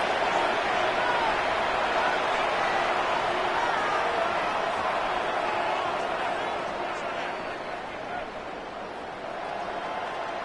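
Dense stadium crowd roar in the video game Madden 26 as the crowd rises before a two-point try, a loud continuous wash that eases slightly toward the end, with an announcer talking over it.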